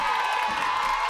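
Crowd at a live show cheering and applauding as guest Lynn Navratil is brought on, a dense, steady wash of shouts and clapping filling the whole short moment.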